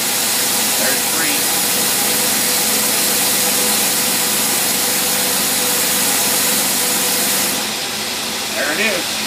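An engine fitted with a Holley 4412 carburetor runs loud and steady under full load, with a continuous rough drone that holds for several seconds before dropping off near the end.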